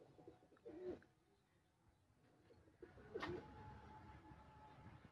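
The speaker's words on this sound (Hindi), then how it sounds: "ये कबूतर आया हुआ है हमारी रेंज में" A pigeon coos from a rooftop, two short throaty calls spaced a couple of seconds apart over soft background hum, fairly close and quiet.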